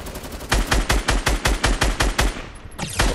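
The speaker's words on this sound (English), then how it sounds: "Somebody's shooting from the left side, east!" Close automatic gunfire in Fortnite, a fast even rhythm of about twenty loud cracking shots that stops briefly near the end before one more shot follows.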